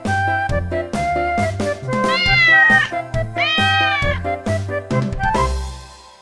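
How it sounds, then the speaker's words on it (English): A real cat meows in a string of clear, loud, drawn-out calls, several rising and falling cries following one another closely, heard alone with no talking. "This is a cat."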